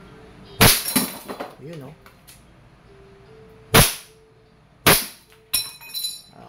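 A KWC 75 competition-model CO2 airsoft pistol fires at a plate: three sharp, loud shots with metallic impact rings, spaced over several seconds, plus a fainter click, with brief talk between them.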